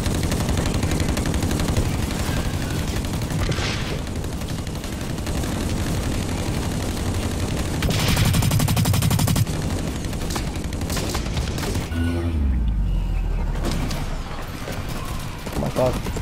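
Gunfire bursts and explosions from the Splinter Cell Blacklist video game run continuously, with a deep boom near the end.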